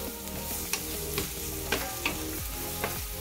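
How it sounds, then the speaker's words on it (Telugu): Green chillies, chopped onion and mint frying in a pan, a steady close sizzle broken by several distinct spatula scrapes at irregular intervals. "సో అలాగే పచ్చిమిర్చి కదండి ఫ్రై చేసేసి"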